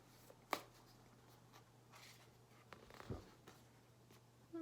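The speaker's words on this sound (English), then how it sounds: "I'm going to pull a couple oracle cards for you." Oracle cards shuffled by hand during a pick-a-card reading, a faint soft riffle with a brief flutter near the start and another short burst later, over quiet room hum with no talking.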